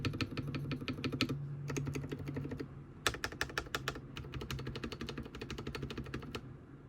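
Typing on a Feker IK75 Pro mechanical keyboard fitted with modded stabilizers: fast, steady bursts of crisp keystrokes close up, with brief pauses between runs and no voices.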